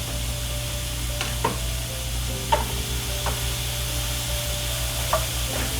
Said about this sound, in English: Vegetables are cooking down.